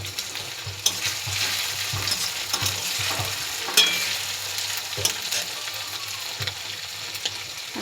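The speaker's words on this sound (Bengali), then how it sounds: "আমি পেঁয়াজের সঙ্গে চিংড়িটা অ্যাড করলাম একই সঙ্গে" Live prawns fry with onions in a pan, making a constant crackling sizzle broken by sharp utensil knocks and stirring clacks at irregular intervals, close and fairly loud throughout.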